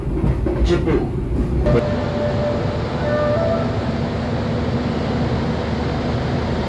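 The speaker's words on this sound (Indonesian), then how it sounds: "saat ini kereta api Dharmawangsa sudah tiba di stasiun Cepu" Passenger train Dharmawangsa rolling on rails toward Cepu station in Indonesia, heard from inside as a steady loud rumble with faint wheel clatter, a voice talking briefly over it near the start.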